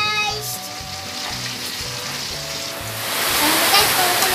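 Steady bubbling and hissing of liquid boiling in a pot while making coffee jelly, loud and close, with a few soft clicks and a rising rush toward the end.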